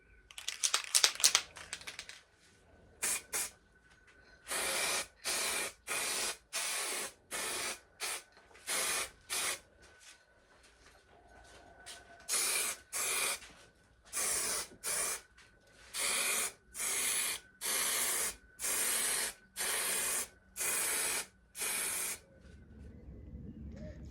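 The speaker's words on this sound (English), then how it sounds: "and then just get some primer on here" Aerosol primer spraying onto a classic car body panel in a workshop, a series of short hissing bursts in a regular on-off rhythm with brief quiet gaps between them.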